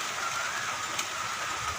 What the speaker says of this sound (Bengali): জোরে বৃষ্টি এসেছে